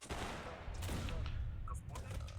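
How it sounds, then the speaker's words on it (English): Mortar and gunfire barrage in a battle in the strategy game Age of Empires 3, a dense continuous roar of overlapping shots and blasts with sharp cracks standing out, loud and without any talk over it. "He's got mortars as well."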